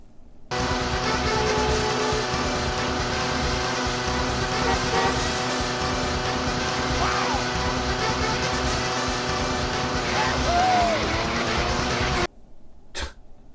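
Racing car engine from the Sega Saturn game Gale Racer, a steady loud synthesized engine drone with shifting pitch running almost continuously, ending abruptly before a short blip.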